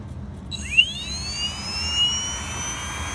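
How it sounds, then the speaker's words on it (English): An electric motor on an Xnova XTS 530 spins up with a rising whine that settles into a steady high-pitched hum, running alone at moderate volume. "Here's what the motor sounds like without any other factors."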